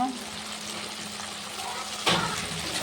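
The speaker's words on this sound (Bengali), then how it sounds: "ওটাকে ভালো করে ভেজে নেব" Ground tomato frying in a pan gives a steady, moderate hiss, and a louder burst of sizzle comes near the end.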